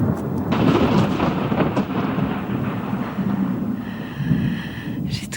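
Thunder rolls through a storm in a continuous deep rumble, loud and close, with a brief brighter crackle near the end.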